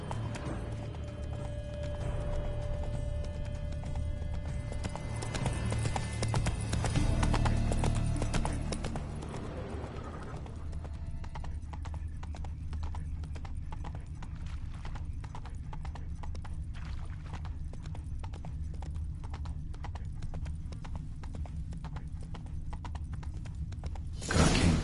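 Horse hooves galloping in The Witcher 3, a steady fast clip-clop with a snort or whinny, over a low game ambience; the hoofbeats fade after about ten seconds, leaving quieter rhythmic trotting and background sound.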